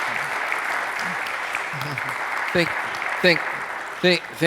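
Audience applause fills a church, a steady broadband clapping from a crowd carrying on throughout, with a few short voiced remarks rising briefly above it near the end.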